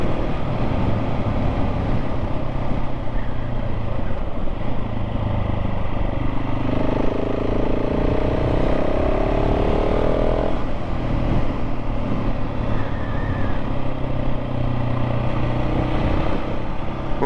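A KTM 690 SMC-R motorcycle on a test ride gives a steady, loud engine drone with wind rush, with a rising rev sweep in the middle.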